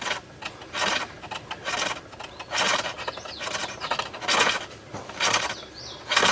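A sharp turning tool cuts into a green wood bowl spinning on a lathe, making rhythmic swelling hisses and scraping rasps that rise and fade roughly once a second over a steady low hum.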